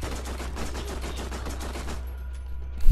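Sustained rapid gunfire in Borderlands, a dense stream of shots over a low rumbling background that cuts off near the end, with a sharp thump at the close.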